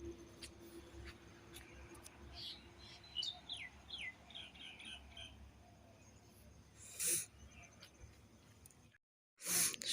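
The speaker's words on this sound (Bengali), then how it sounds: "সকালবেলায় যে কত রকমের পাখি দেখা যায়" Small birds chirp and tweet outdoors in the morning, soft and fairly distant, with a short run of quick calls over a quiet background and a couple of brief louder knocks.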